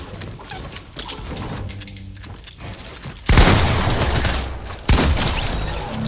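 Gunfire in Fortnite, two loud bursts of shots cutting in sharply amid game sounds and background noise, the second shorter than the first.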